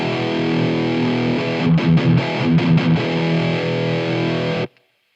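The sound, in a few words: Marshall MG50CFX guitar amp on overdrive 2 without damping control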